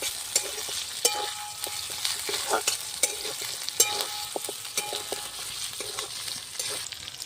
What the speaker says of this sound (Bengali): রসুন দিয়েও একটু ভালো করে নাড়াচাড়া করে নেবো